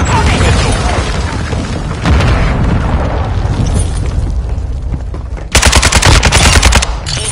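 Rapid automatic gunfire and booming blasts in a Call of Duty MW2 multiplayer match, loud and continuous with dense overlapping shots, ending in an even louder close burst of fire.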